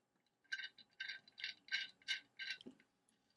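Metal bolt being turned into a SILOON nut and bolt thread checker: a quiet run of about six short, crisp metallic ratcheting clicks in a steady rhythm, close and isolated against near silence.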